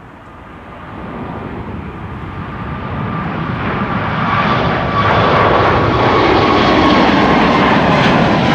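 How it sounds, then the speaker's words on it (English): A Singapore Airlines A350 departs Amsterdam Schiphol, its jet roar rising steadily from a moderate rumble to a loud, close, sustained thunder with a thin tonal whine, with no talk. "Singapore Airlines A350 to Singapore."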